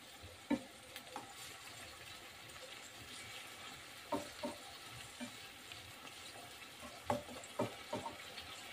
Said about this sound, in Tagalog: Lutuin lang natin yung kamatis niya